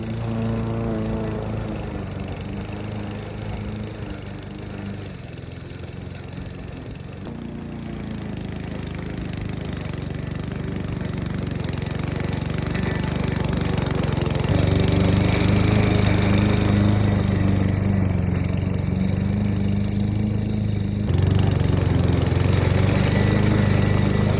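A lawn mower mows a grassy area of a homestead garden, its engine droning steadily and close throughout, growing louder and heavier about midway with no talk.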